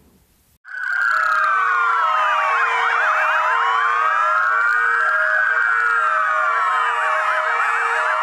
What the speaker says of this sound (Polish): Ten wspólny głos syren niósł tym razem dobrą nowinę.